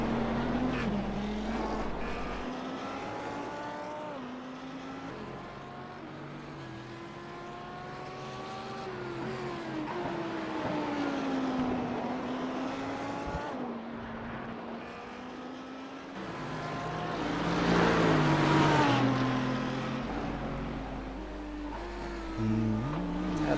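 GT3 race car engines on the New Hampshire oval in a sim racing game, a continuous loud engine drone with rising and falling revs as cars pass, swelling toward the end, under faint background.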